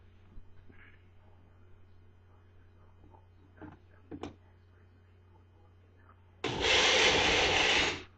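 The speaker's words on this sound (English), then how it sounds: "Alright, so just blend this quite good so it's very fine." Quiet handling and clinks give way to a blender kicking on loudly, blending hot sauce and whirring steadily for over a second at the end.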